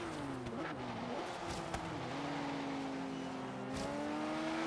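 A Porsche 911 GT3 RS 4.0 track build in a racing video game, engine tone rising and falling as it corners, steady and continuous with a few brief clicks.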